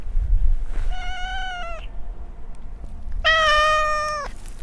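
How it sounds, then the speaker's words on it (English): A cat meows at a closed door, two drawn-out, clear meows close by, separated by a short pause, over quiet room noise. "Cats!"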